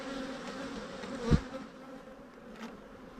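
Bees buzzing steadily at a hive in a beeyard, a dense continuous drone with a brief louder swell as one passes close.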